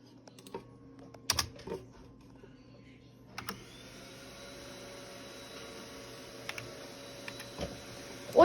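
Keys on a computer keyboard get tapped in a few short, separate clicks over a low steady mains hum, typing a command in Minecraft.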